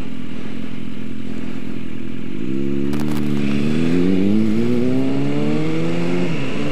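A motorbike engine drones steadily nearby, then winds up in rising revs as the rider accelerates, with a brief clatter partway through and a loud, continuous engine note throughout.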